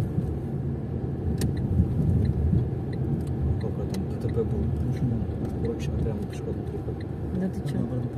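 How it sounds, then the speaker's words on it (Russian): A car cruises along a road in Kirovo-Chepetsk, its steady low engine and road rumble filling the cabin throughout while people chat over it. "А мы едем по направлению к ПМК."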